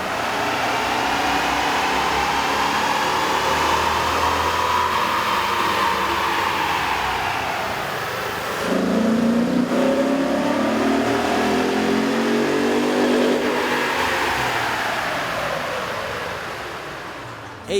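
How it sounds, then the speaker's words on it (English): A Toyota Tundra 5.7L engine fitted with an AEM air intake runs on a dyno, its loud, close roar sweeping up and down through long revving pulls. A brief dip is followed by another sustained climb in pitch. "Here's a comparison of the Tundra's sound on the dyno with the stock OEM system versus"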